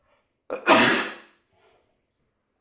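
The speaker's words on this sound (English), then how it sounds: "Oh, I gotta sneeze." A single loud, explosive sneeze with a short breathy intake just before it, close to the mic, then quiet.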